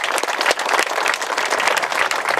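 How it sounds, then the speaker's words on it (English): Dense, lively audience applause for Mayor Stephanie Miner at the Inner Harbor groundbreaking ceremony, brisk individual claps audible within a steady crowd wash. "let's give her a round of applause."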